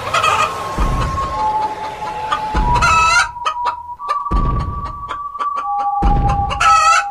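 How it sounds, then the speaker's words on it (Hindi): A chicken clucks and crows in repeated bursts over a steady synthetic tone, with sharp clicks scattered between, close and fairly loud, in the video game Indian Bike Driving 3D. "ये तो किसी मुर्गी की आवाज आ रही है।"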